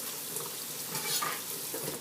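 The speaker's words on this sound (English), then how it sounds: "I love the sound of running water" A kitchen tap runs steadily while someone prepares stuffed pasta shells, giving a soft, even hiss of flowing water with no voices over it.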